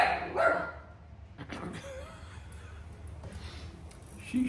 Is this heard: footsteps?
no